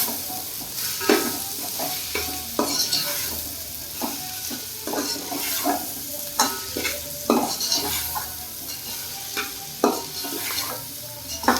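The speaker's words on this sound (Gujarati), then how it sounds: "હવે આપણે ગાજર આવી રીતના તેલમાં પેલા કરી નાખીએ, એકદમ પકાવી નાખીએ।" Carrots stirred and fried in hot oil for noodles, with a steady sizzle under repeated scraping stirs of a utensil against the pan, close and fairly loud throughout, no talking.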